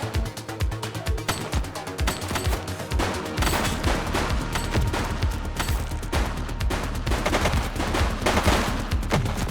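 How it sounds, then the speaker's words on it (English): In The Precinct, a suspect's gunfire cracks out in rapid, loud bursts that run almost continuously, mixed with dense background action and a faint voice. "He's shooting!"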